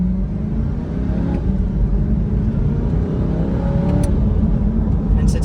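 A 2023 Corvette C8 Stingray's naturally aspirated engine rumbles loudly and steadily, a deep continuous drone building slightly in pitch as the car accelerates, close and without pause.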